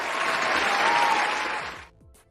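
Another round of audience hand clapping at an appreciation show, a thick, loud burst of many hands lasting under two seconds, then stopping suddenly with a faint voice trailing after.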